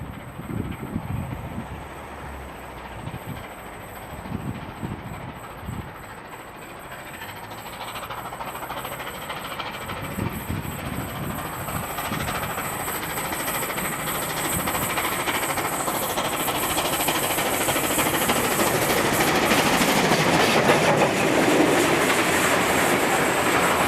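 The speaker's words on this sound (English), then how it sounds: "3801 passes by Carlton from Cogra with its Sunday passengers." Steam locomotive 3801 hauls a Sunday passenger train past at Carlton in New South Wales, hissing steam and rolling wheels growing steadily louder and nearer, with rhythmic clatter rising as the train passes, no voices.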